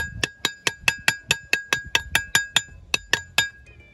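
A hammer strikes a metal half-block concrete mold again and again to shake the structure. The blows are loud, ringing metallic clanks at a fast, steady rhythm of about fifteen hits, each with a bright ring that fades quickly. No one speaks.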